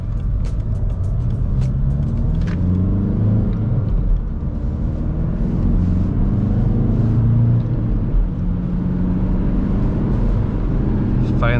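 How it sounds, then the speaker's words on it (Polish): A 2007 Seat Leon II 2.0 TDI 140 hp rolling over road manhole covers, steady low cabin rumble with a few dull thuds and small rattles. "Jak po tych studzienkach jadę, to takie sztywne, głuchy dźwięk"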